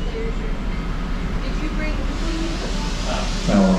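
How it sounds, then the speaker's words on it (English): Steam locomotive 148 hauls a passenger train out of Lake Placid, Florida, giving a steady low rumble and hiss heard from inside a coach, with a faint voice near the end. "we are being pulled by a steam locomotive"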